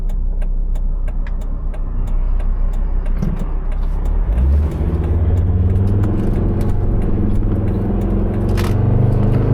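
A car drives along a road on the way home, its engine and tyre rumble steady and close throughout, with a shift in engine tone around the middle and a brief rattle near the end.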